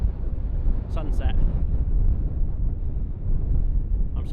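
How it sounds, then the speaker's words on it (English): Wind blowing through forest trees in the Peak District at dusk, a steady low rushing roar buffeting the microphone throughout, with faint brief rustles near the start and end. "It's very windy."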